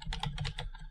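Quick burst of typing on a computer keyboard, about a dozen light clicking keystrokes in a fast run, close and fairly quiet, no voices.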